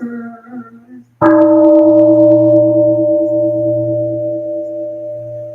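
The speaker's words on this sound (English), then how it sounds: "Here is the after sound of the bell." A bell is struck once at a Buddhist Sunday service, a loud clang with a deep, sustained ringing tone that slowly fades over several seconds, following a brief lower hum.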